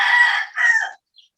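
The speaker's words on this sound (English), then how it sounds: "sorry for the rooster back there" A rooster crowing nearby, a loud two-part cock-a-doodle-doo lasting about a second, followed by a faint short cluck, with no talk over it.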